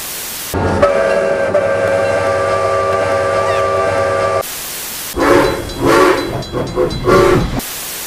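A loud, sustained whistle from steam locomotive CP 2860 blows for several seconds with a hissing edge, followed by short puffs and chuffs of steam.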